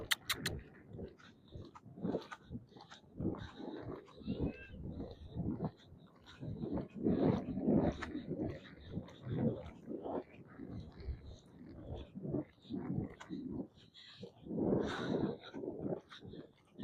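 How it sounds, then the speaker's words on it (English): A dog's low growling and snuffling breaths, repeated in uneven bursts at close range, with faint whispered sounds mixed in. "Don't worry about that dog."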